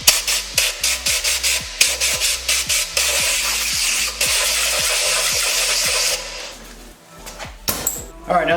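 A thread tap is worked through the bolt threads of a 2019 Kawasaki ZX10R swingarm to clear old Loctite, producing rapid rhythmic metallic rasping strokes, then a steady grinding rub, close and loud.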